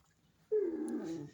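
A dog gives a single sudden close whine that holds and slowly falls, loud and clear against a quiet background with no talking.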